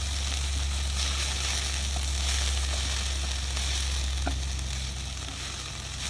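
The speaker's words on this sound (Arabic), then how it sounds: "بعدين هبدأ احطها في الزيت واشوحها" Onions sautéing in hot oil in a pan for Egyptian moussaka, a steady close sizzle and crackle with faint stirring, continuous and even throughout.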